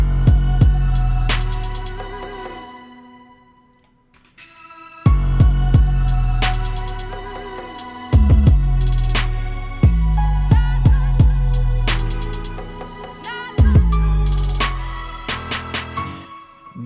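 Hip-hop beat built in PreSonus Studio One, with eerie harp-like melodic notes over heavy low kick and bass hits that drop out and return in loud, looping bars, alone without voices.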